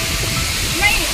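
A stream of water pours down a waterfall in the Keonjhar countryside, a steady broadband rush running close and loud for the whole moment while people talk over it.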